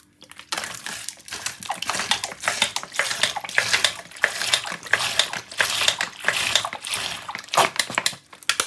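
Sea moss being washed by hand with bottled water, with a close, continuous rhythm of splashing, sloshing and wet squelching as the seaweed is rubbed and swirled in a container.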